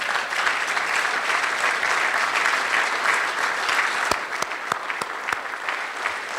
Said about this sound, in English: Let's give a round of applause to the students